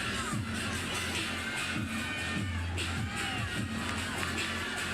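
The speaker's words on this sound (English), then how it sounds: "Teammates cheering her on the sidelines." Gymnastics teammates cheer from the sidelines of a rival's home gym floor at a women's college meet, Alabama versus Georgia, with a busy crowd wash and scattered shouts and whoops running steadily throughout.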